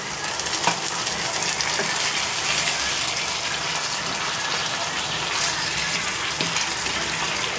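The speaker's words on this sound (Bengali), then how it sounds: "টক দইয়ের বাটিটা ধোয়া জলটা আমি একটু দিয়ে দিলাম।" Water from a rinsed sour-yogurt bowl goes into a hot pot of chicken muri ghonto, a loud, close, steady rush and sizzle with a few clinks, no talking.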